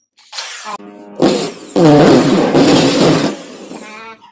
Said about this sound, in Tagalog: Naka-hammer pala tayo at na maingay.